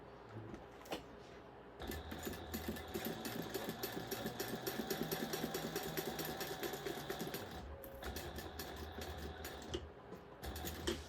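A sewing machine bastes a bag's lining to its exterior with a rapid, steady mechanical chatter. It starts after a brief pause, runs for about six seconds, stops briefly and then resumes for a short final burst.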